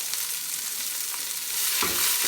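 Chopped onion fries in a pan for sayadiyeh, a steady close sizzle with faint stirring scrapes and a louder burst of crackle near the end.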